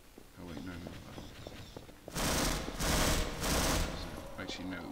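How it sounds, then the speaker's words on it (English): Gunfire in the video game Half-Life: after quieter game ambience with footsteps, three loud bursts of rapid shots come close together, then fainter sounds as the fighting continues. "wait for the gunshots to stop"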